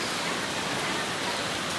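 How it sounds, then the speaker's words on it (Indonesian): Heavy rain pouring steadily at night in the early hours, a dense continuous hiss with no pauses, heard from a Suzuki car on a mountain road between Banda Aceh and Lake Toba. "Hujan deras sekali."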